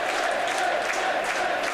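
Wrestling crowd in Rochester roaring at a top-rope move, a brief, loud, steady burst of cheering and applause filling the whole moment with no break.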